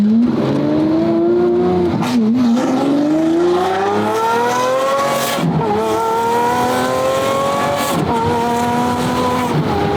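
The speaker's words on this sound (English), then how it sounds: "That beautiful Gintani F1 exhaust system sounds amazing." A Lamborghini Aventador SVJ with a Gintani F1 exhaust revs hard and continuously, its loud exhaust note climbing and dropping through several gear changes as it accelerates close by.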